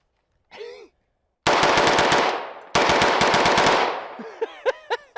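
Rapid full-auto bursts from a modified firearm fitted with a trigger lever, two loud fast strings of shots ringing with echo, followed by a few scattered clicks and clatters.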